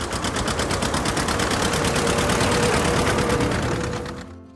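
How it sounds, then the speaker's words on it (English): A John Deere 730 two-cylinder tractor engine, 376 cubic inches, running with a rapid, steady popping exhaust beat, loud and close, before it cuts off abruptly at the end. "The 730 is iconic because it was the last model to feature the distinctive popping sound"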